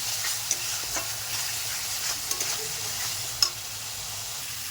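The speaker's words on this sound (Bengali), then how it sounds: "ভালো করে মশলাটা কষিয়ে আলুটা দিয়ে কষাবো গরম করে।" Potatoes stir-fried with spices, salt and turmeric in a pan, a soft continuous sizzle broken by a few sharp scraping and clinking stirs of the spoon, faint and close.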